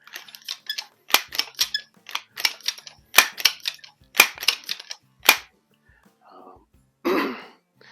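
Crosman multi-pump .177 pellet rifle being worked close up: a quick run of sharp mechanical clicks and pump strokes, then a brief hissing burst near the end like the shot.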